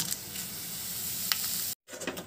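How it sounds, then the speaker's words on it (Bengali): Bay leaves and cumin seeds sizzle in hot mustard oil in a kadai as a spice tempering for broiler chicken bhuna: a steady close, bright frying hiss with faint crackles, briefly cut off near the end before resuming. "কড়াইয়ে সরিষার তেল দিয়েছি তেজপাতা জিরা ফোড়ন দেব"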